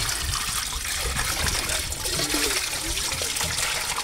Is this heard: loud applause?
no